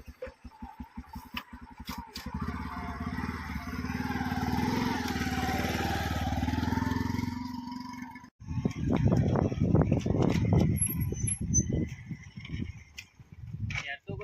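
Motorbike engine idling and running with steady mechanical clatter, then a louder burst of revving and rattling after a brief drop, with voices talking over it nearby.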